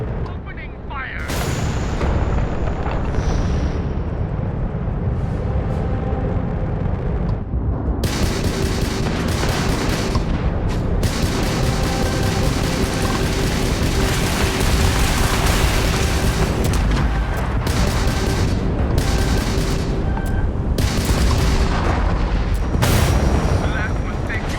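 Spaceship weapons blasting during a Starfield space battle, dense rapid booms and gunfire-like bursts firing almost continuously and loud, with a few sharp gaps, while voices speak over the combat.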